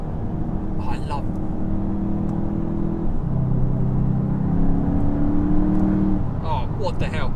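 A Golf 8 GTI Clubsport accelerates hard in manual mode with a steady cabin-heard engine drone rising in pitch through the gears, while a voice speaks over it at the start and end; distinct exhaust pops are not clearly separable.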